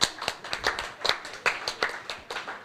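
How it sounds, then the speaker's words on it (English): A small group at a hackathon closing ceremony claps unevenly for a few seconds, a handful of distinct, close hand claps rather than a large crowd. "round of applause"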